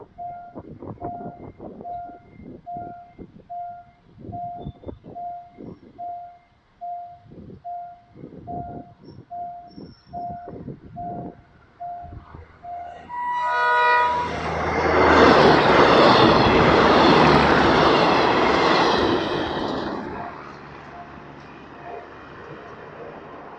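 A train horn sounds in repeated short beeps, then a loud rumbling roar of a train passing close by a level crossing on a major road in Thailand swells and fades.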